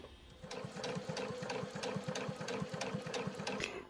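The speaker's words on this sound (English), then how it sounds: "So I'm going to sew 3/8 of an inch seam allowance all the way down this little piece." A sewing machine stitches a 3/8 inch seam allowance along a small piece of fabric for a French seam, its needle hammering in a fast, steady rhythm that runs continuously and close up with no talking.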